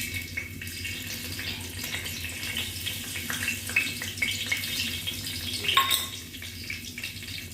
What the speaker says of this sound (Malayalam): നമ്മുടെ മസാല നന്നായിട്ട് ഇതിൽ കിടന്ന് മൂത്ത് വന്നിട്ടുണ്ട്